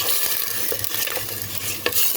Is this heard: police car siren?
no